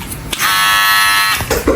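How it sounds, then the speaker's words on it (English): A Ghost X electric hair trimmer in a barber setup buzzes loudly and steadily for about a second, close to the listener, with brief clicks and handling noise before and after. "This is the Ghost trimmer, I think."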